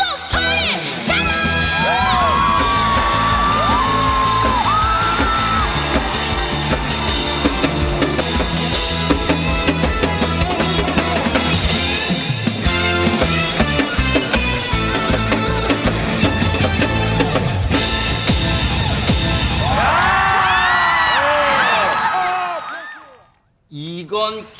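A large audience at a Korean trot music performance shouts and cheers loudly and continuously over loud music and a singer's voice, with a fresh burst of whoops near the end before the sound drops away.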